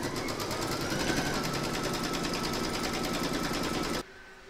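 An embroidery machine stitches a round on a hoop for a poinsettia bunting, a loud, fast, steady mechanical chatter that continues for about four seconds and then stops abruptly.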